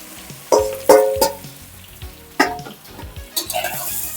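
Muthiya dumplings drop into hot oil with already fried chillies, giving a few close, sharp sizzling bursts and stirring clatter against a steady low crackle, with no talk.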